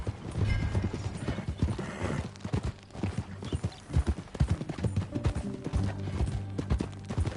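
Rapid clip-clop of horse hooves trotting steadily throughout in the video game Red Dead Redemption 2, fairly close, with faint mechanical creaks and a low musical backdrop.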